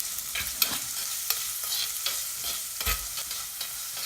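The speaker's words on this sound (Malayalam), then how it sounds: "ഇനി ഉള്ളി ചെറുതായിട്ടൊന്ന് ആ എണ്ണയിലൊന്ന് വഴറ്റിയെടുക്കണം." Chopped onion sautéing in oil for a clam stir fry, a soft steady sizzle with repeated spoon scrapes and stirring knocks against the pan, close and moderately quiet with no voices.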